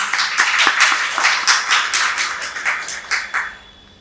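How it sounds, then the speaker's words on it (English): Applause for Dr. Madhurima Vidyarthi at a Moksha Talks event, a small group clapping in quick irregular claps that stay close and fairly loud before thinning out and fading at the end. "An applause for her, please."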